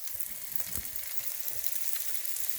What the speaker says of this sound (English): these are the onions, and they've been cooking for a few minutes